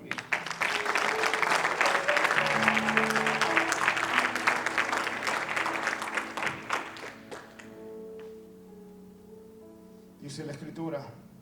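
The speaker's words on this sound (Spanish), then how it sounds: "Denle un aplauso a Jesucristo." Congregation applause at a Spanish-language church service, a dense, loud wash of clapping for several seconds mixed with music and voices, tapering off toward the end before a voice resumes.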